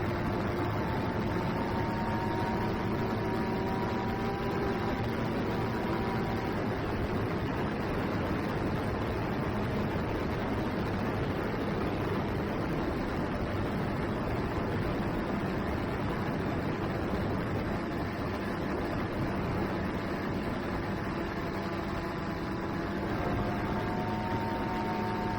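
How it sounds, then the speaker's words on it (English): Strong wind sweeps over a frozen river as a steady, loud, continuous rush of noise that holds for the whole stretch without letting up, with a faint low droning hum running underneath and no voices. "That wind is really picking up."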